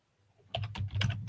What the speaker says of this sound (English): I'm gonna start typing names.